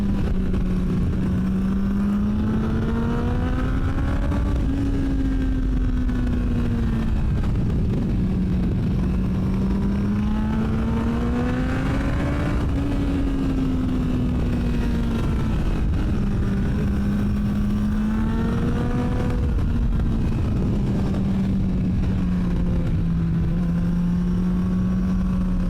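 A Triumph Tiger 660 Sport motorcycle engine hums continuously while riding, its pitch rising and falling smoothly through gear changes, with steady wind rush from an onboard position.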